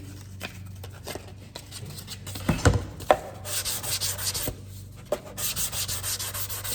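Sanding block with 180 grit paper rubbing over a primed panel in a crisscross pattern, giving steady rasping strokes with a few louder scrapes, close and alone without talk.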